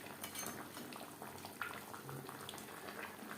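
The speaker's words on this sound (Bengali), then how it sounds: "মাছ বেশ ভালো করে মিক্সড করে দেব" Tangra fish stirred into a simmering curry gravy with potato and cauliflower in a pan, giving a soft continuous bubbling sizzle with faint spoon scrapes throughout, no talk.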